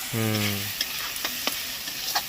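Shredded cabbage frying with spices in a pan, a brief low hum at the start followed by soft sizzling and a few scraping stirs of the spoon, close and fairly quiet.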